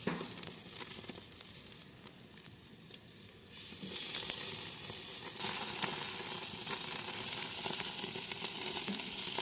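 Corn and zucchini sizzling in a hot pan, a close steady frying crackle that swells louder midway as more vegetables go in, continuing alone without speech.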